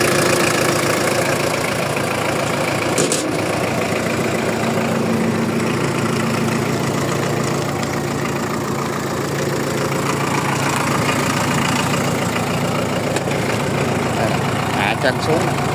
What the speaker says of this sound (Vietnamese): Máy nổ ngon lành nhé nè.